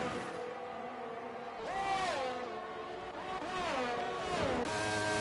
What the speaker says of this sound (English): Here comes the McLaren.